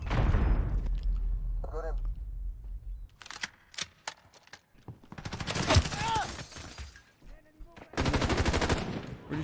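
Video game gunfire in sharp bursts of rapid automatic shots separated by short pauses, with a player talking over and between the volleys.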